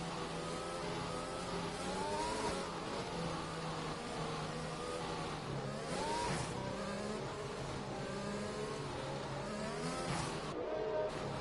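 Sim racing cars in an esports race at Belgium weave behind a safety car to warm their tyres, engines droning and rising and falling in pitch in a continuous, layered whine with repeated revving swells.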